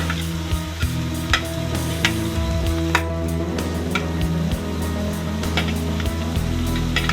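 Cabbage and capsicum stir-frying on a high flame, a loud steady sizzle close up, punctuated by sharp clicks and scrapes of stirring against the pan.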